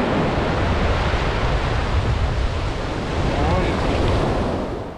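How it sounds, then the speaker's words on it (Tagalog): Large ocean waves crashing near a resort shore, a continuous loud roar of surf mixed with heavy wind noise on the microphone, steady throughout. "Isipin mo yan, ganyan kalaking alon."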